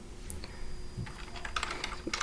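A short burst of typing on a computer keyboard, with quick, soft keystrokes in an uneven rhythm, close and faint, no talking.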